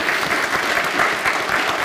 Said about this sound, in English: Let's do the claps.